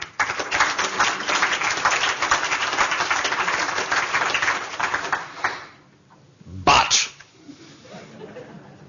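A debate audience breaks into sustained applause, a dense wash of clapping mixed with voices. It stops abruptly, followed by a short loud burst, then a quiet room.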